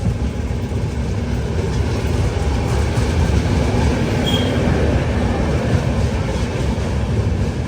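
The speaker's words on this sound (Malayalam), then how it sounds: "നാഗൂർ റെയിൽവേ സ്റ്റേഷനിലേക്ക് ട്രെയിൻ എത്തിക്കൊണ്ടിരിക്കുകയാണ്." A passenger train pulls into Nagore railway station, a steady close rumble of wheels and carriages with a faint clickety-clack and a brief high squeal, continuous throughout with no voices.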